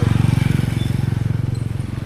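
A Rider 150 motorcycle is revved hard while being lifted into a wheelie, making a close, loud, throbbing engine drone with a rapid, even pulse throughout.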